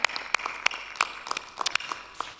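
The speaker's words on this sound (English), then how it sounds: "Round of applause for that." An audience gives a round of applause at an acoustic guitar event, with scattered, uneven claps that are moderately loud and sparse over a quiet background.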